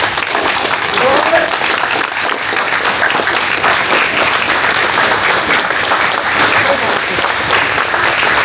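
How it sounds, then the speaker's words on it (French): Spectators at a French amateur MMA competition applaud the fighters with loud, sustained, tightly packed clapping that runs unbroken for over eight seconds. "on va vous applaudir encore un coup"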